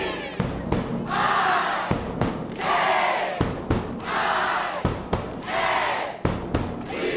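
A packed high school playoff football crowd in Washington State, at Lake Stevens versus Woodinville, roars and yells in repeated loud surges of cheering. Short thuds and brief dips separate each swell of massed voices.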